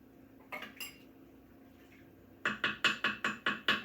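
A spoon stirs lentils into simmering chicken broth in an Instant Pot: a few soft knocks, then a steady run of about eight sharp, evenly spaced clanks against the metal pot, close and fairly loud.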